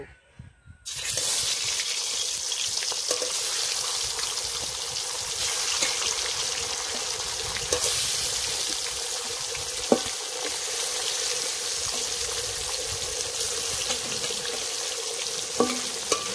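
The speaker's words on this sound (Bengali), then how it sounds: "তেলটা ভালো করে গরম করে নিয়েছি, এবার মাছগুলো দিয়ে দেব" Loud, steady sizzling of ritha fish frying in hot oil, a dense continuous crackle with occasional sharper pops, starting abruptly after a brief quiet moment.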